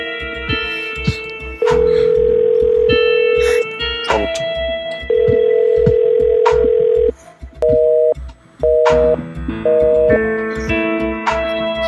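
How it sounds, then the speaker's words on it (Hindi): Steady phone ringtone melody with sustained tonal notes and repeating beeps, ringing on unanswered for about twelve seconds with no voices. "ये फोन क्यों नहीं उठा रही?"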